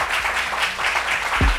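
A studio audience applauds two guests with steady, dense clapping that keeps going at a moderate level without a break.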